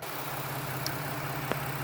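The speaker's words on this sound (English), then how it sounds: "Let's pop the hood so you can listen to it run." A 2019 Ford Transit 350 XLT wheelchair van idles with the hood open, a steady even engine hum with a low drone and a faint click or two, heard up close with no talking.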